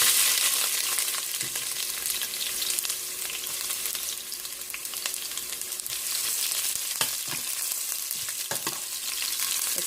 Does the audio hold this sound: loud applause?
no